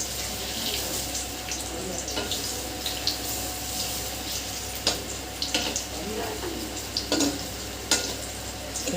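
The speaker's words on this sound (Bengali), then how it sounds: "আস্তে আস্তে এগুলোকে ফ্রাই করে নেবো" Bread ball pakoras coated in gram flour batter frying in hot oil: a steady, bright sizzle runs throughout, broken by several sharp clinks of a utensil being stirred or tapped against the pan.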